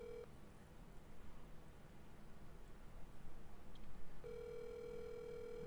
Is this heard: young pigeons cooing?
no